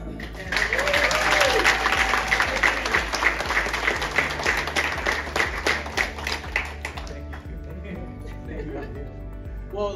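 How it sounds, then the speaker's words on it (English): Crowd applause at an elementary school Blue Ribbon celebration, steady dense clapping for about seven seconds that then tapers off, with some voices mixed in. "one last round of applause"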